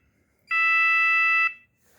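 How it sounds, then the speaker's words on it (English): A single loud, steady electronic start beep from a RaceGorilla photocell timing system, lasting about a second before cutting off cleanly, with near silence around it. "you'll hear a loud beep"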